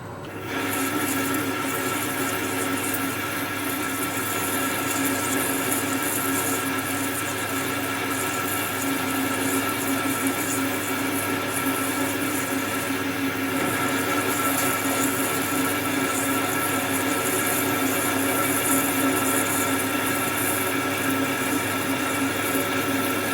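Lathe-style cutting tool chamfering metal on a workshop machine while a saw blade sharpening attachment is made, a steady continuous whirring hum with a bright metallic edge, holding evenly at close range for the whole stretch with no talk.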